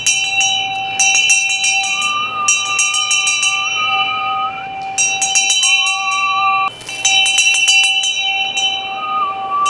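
Metal shaman's ritual hand bell topped with a vajra (geumgangjeo) rings in repeated bursts of bright, shimmering jingles, loud and close with short pauses between shakes, no talking.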